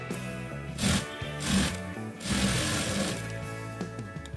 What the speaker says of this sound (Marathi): पट्टीमध्ये फोल्ड करून पुन्हा एक शिलाई मारून घ्यायची